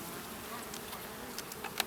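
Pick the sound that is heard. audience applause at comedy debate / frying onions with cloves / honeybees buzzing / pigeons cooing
honeybees buzzing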